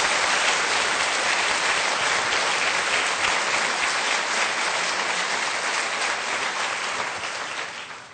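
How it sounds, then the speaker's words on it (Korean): Sustained applause from a church congregation for a men's choir during an installation service, a dense, steady clapping wash that fills the room and begins to fade near the end. "다시 한번 박수 한번 부탁합니다."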